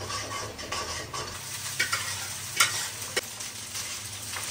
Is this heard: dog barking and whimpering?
no